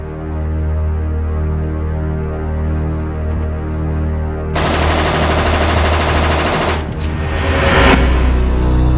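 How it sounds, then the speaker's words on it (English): A fully automatic M4 rifle fires on full auto at a SWAT sniper training range. A low steady hum comes first, then a loud, sustained burst of rapid gunfire, a brief break, and a further burst. "It's a fully automatic M4. This is more of an entry team gun. But if you'd like me to shoot it on full auto very quickly, I will do that."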